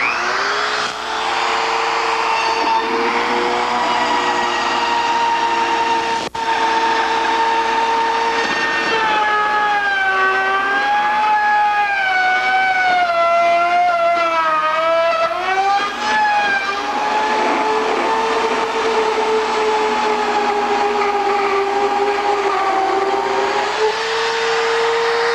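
A loud, continuous whine of a router grinds steadily, its pitch wavering up and down as it cuts through foam core.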